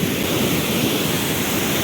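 A swollen, flooding stream rushes beside a village road, giving a loud, unbroken roar of turbulent water close to the microphone.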